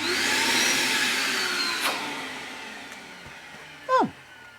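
A vacuum cleaner runs steadily in a guitar workshop, a loud continuous motor whine with tonal harmonics that slowly drift, broken near the end by a brief sharp knock.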